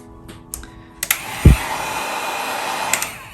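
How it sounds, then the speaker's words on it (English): Heat gun blowing on paint during blob painting, a steady airy whoosh starting after a few clicks and a bump, sustained and close, no speech. "Let's try the heat gun and see what happens."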